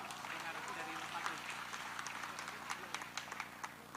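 Crowd clapping at a Repnas political declaration event supporting Prabowo-Gibran, a moderate, scattered patter of applause with some sharper individual claps, with speech over the clapping.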